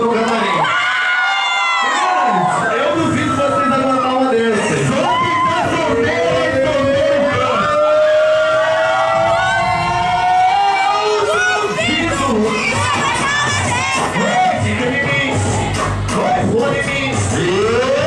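A packed nightclub crowd at an MC show shouts, whoops and cheers loudly and continuously, with high excited voices and yells layered over one another for the entire stretch.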